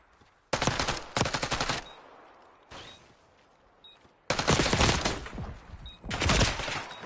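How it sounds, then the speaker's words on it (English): Bursts of automatic gunfire crack out in a video game gunfight on a survival island map, loud rapid volleys in two clusters separated by a quieter stretch, with no talk over them. "This is the gunfight."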